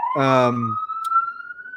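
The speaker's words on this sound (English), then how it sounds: "there's a siren outside. If you can hear that" A siren sounds outside on the street as a clear, sustained wailing tone that slowly rises in pitch, with a brief voice heard over its opening moment.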